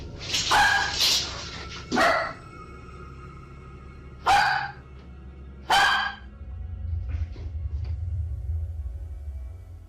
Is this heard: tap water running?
no